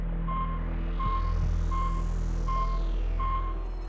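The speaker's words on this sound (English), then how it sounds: "The only data it returned was via the duration of the beeps" Sputnik satellite radio transmitter beeping, the beep durations coding temperature and pressure: five short, evenly spaced high tones, each about a quarter second long, over a steady low hum, clear and sustained.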